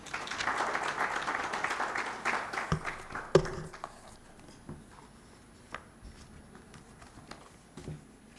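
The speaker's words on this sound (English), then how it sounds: "Another round of applause for the Honorable Minister of State for East African Affairs, Honorable James Magode Kuya." Audience applause at an East African Community post-budget dialogue on tax and debt, a sustained wash of clapping in a hall that fades after a few seconds into scattered isolated claps and taps.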